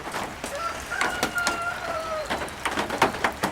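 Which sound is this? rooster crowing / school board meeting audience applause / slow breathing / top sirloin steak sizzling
rooster crowing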